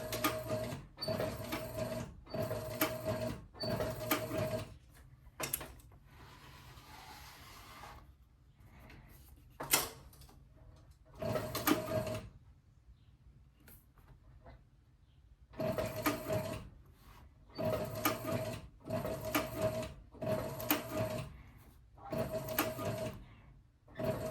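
A sewing machine back-stitching a leather sport shooting bag, running in several bursts of rapid mechanical stitching separated by short pauses and quieter handling, with no talk.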